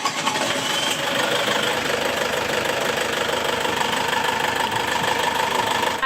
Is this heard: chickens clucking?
no